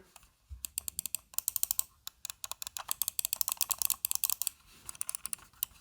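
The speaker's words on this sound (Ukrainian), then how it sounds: "Зараз давайте послухаємо, як вона клацає." Rapid, crisp plastic clicks of an Acer OMR040 wireless mouse's buttons pattering in quick irregular bursts, close up and fairly loud, with no talking.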